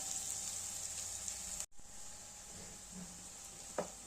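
Curry leaves, green chilli, peanuts and onion sizzle steadily in a hot pan for a Vidarbha ukadpendi, a continuous close frying hiss with a brief break midway and a soft stir near the end, no talking.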